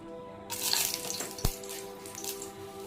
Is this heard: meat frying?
yes